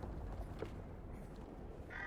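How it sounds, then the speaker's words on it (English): A crow in the video game Little Nightmares 3 gives a faint, distant caw amid a low, murky ambient game backdrop, with a brief brighter sound near the end. "Fly away, crow."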